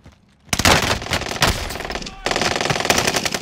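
Rapid automatic gunfire in the video game Call of Duty: Warzone, loud close bursts of fast shots that start abruptly and continue in two dense volleys, with players talking in the background.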